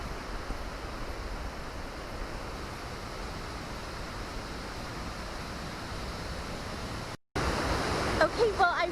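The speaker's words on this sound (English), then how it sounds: "The sound of the water is getting stronger." A steady, rushing roar of a waterfall at Crater Lake National Park, Oregon, fills the scene without letup, briefly cutting out near the end before returning slightly louder.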